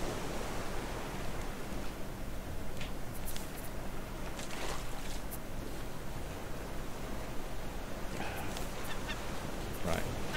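Honking, goose-like bird calls from the Raft survival video game, called pigeons, ring out several times over a steady wash of ocean noise, loud and continuous, with no one talking.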